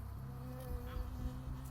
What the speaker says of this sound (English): I got stung by a bee.